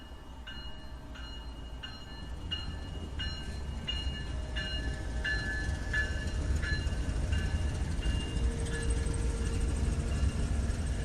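A train rolls past on a railway, caught by a live webcam in America, a steady rumbling drone with repeated clattering wheel beats and a brief horn-like tone near the end, loud and close throughout.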